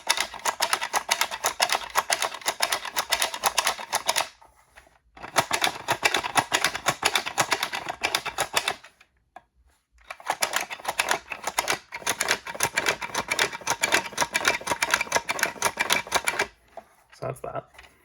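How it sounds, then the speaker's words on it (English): A DIY Nerf blaster prototype clicks and ratchets as its trigger is pulled to rotate the cylinder, producing long bursts of dense, rapid mechanical clicking with short silent gaps between pulls. "So the trigger pull does rotate the cylinder correctly"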